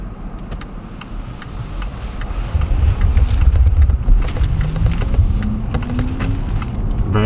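A 2016 Volvo XC90 T8 moves off in pure electric mode, heard from the well-insulated cabin as a soft road hum with light ticks and a faint motor whine that rises in pitch.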